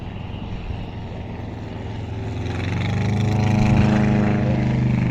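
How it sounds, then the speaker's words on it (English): Light propeller aircraft making a low limbo pass at an East Kirkby airshow, a steady engine drone that swells louder as the plane closes in, with no talk over it. "Keep your eyes on the two aircraft coming in now"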